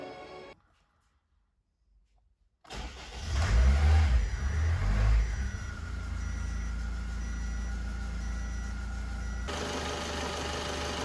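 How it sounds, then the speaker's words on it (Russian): A 4D20 diesel car engine starts after a brief silence, revs briefly, then settles into a steady, fairly quiet idle hum. "Так, мотор работает. Все просто прекрасно. Работает очень тихо, прям приятненько."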